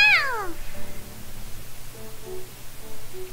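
A cat meows once in a video game visual novel, a clear falling meow at the start followed by quiet background music tones.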